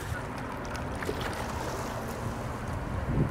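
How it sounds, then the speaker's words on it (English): Choppy water sloshes and splashes beneath a steady rush of wind buffeting the microphone, a continuous rough wash with no voices. "God damn it, these waves are huge."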